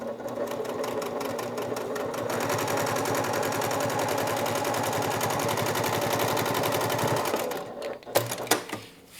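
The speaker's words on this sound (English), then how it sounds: "to go ahead and baste the top of this pocket closed" A sewing machine bastes a pocket closed with a rapid, even stitching chatter that runs for several seconds, then slows and stops, followed by a few light handling clunks.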